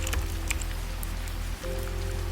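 Steady rain falls and patters on a surface, a dense, continuous wash with scattered drop impacts, heard alone with no talking.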